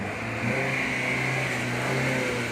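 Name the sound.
car engine revving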